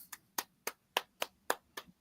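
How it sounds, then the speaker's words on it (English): Sharp, distinct hand claps, eight of them in a steady, slightly uneven rhythm, close and clear with nothing else in the background. "That's why I was clapping."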